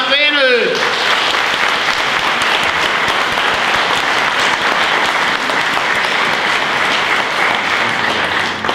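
Loud, sustained applause from a Christmas concert audience for a singer, a thick continuous roar of many hands that follows a brief spoken announcement at the very start and carries on steadily to the end.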